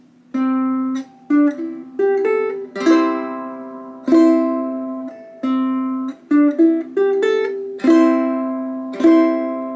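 A plucked ukulele riff from a song, bright short notes in quick groupings with a repeating pattern, played solo and close without any speech.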